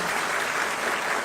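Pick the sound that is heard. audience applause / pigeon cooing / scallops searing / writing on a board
audience applause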